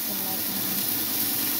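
Sliced onions sizzle in half a cup of hot oil for a chicken pulao, a steady close hiss with a faint voice present.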